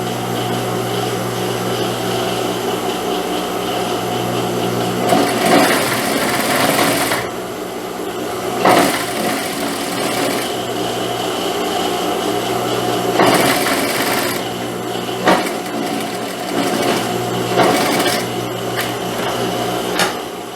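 A sewing machine topstitches a child's blouse, running in fast rattling bursts separated by short pauses, loud and close.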